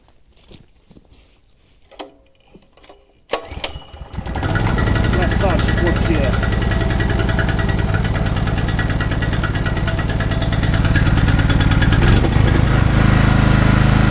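An Oleo-Mac Line 3500 petrol generator is pulled, catches and settles into a loud, steady running drone after a few seconds of clicks and handling noise.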